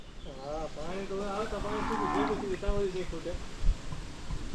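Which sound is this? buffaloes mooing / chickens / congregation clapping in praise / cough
buffaloes mooing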